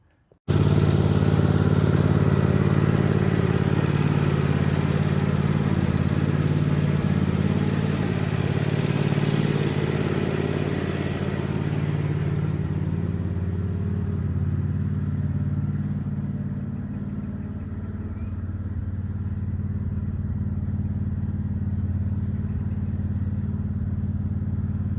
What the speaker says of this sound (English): I really need to get the little red tractor in the garage and start getting ready to pack up.